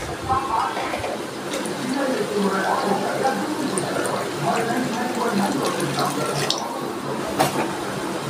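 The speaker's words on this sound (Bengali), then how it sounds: "এবার আমি দিয়ে দিচ্ছি জল।" Water pours into lentils that were fried with spices in a pan, a continuous splashing, bubbling pour heard close up while someone speaks over it.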